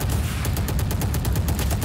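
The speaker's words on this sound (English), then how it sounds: "He was shooting all around me." Gunfire in the video game Valorant rattles out in a rapid automatic burst, a fast run of sharp evenly spaced shots over a low rumble, loud and without speech.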